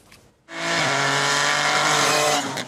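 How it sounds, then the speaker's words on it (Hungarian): Rally car on an extremely slippery track: after a quiet start, the engine revs up loudly with tire squeal and skidding, a sustained strained roar that shifts pitch once and then fades slightly at the end. "Rally autóban ülve, extrém csúszós körülmények között, vagy egy gokartot vezetve próbálhatták ki a beteg gyerekek."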